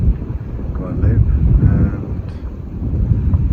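Wind buffeting the microphone at Les Saintes bay, Guadeloupe, a loud continuous low rumble that swells and eases, with a voice talking through it.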